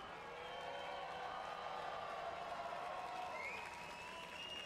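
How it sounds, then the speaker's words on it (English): A crowd at a Vert Alert skateboarding finals watch party in Utah applauds and cheers, a steady, somewhat distant roar of clapping and voices with a rising whistle-like cheer near the end. "Make some noise for Tony Hawk and the top 3 men's Vert Alert guys right here."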